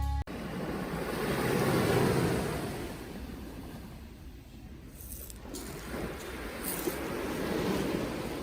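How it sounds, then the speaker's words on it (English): Ocean surf washing onto the beach of Clipperton Island, a steady broadband roar that swells and recedes in slow waves, with wind buffeting the microphone and no voices. "I recorded a little bit of beach sound so you can enjoy the beach too."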